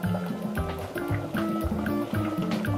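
Cold water is poured into a Tuozaafi sauce cooking over gentle heat, giving a continuous close gurgling, splashing fill with a steady liquid rush throughout.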